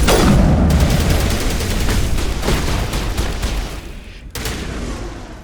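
Rapid gunfire from a weapon in Mass Effect Legendary Edition, dense loud volleys of shots rolling almost continuously with a brief break near the end, then resuming.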